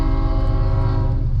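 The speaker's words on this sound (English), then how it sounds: "the railroad track has another train" A train sounds a loud, sustained horn close by on a railroad track, the steady multi-tone blast holding over the heavy rumble of the passing train.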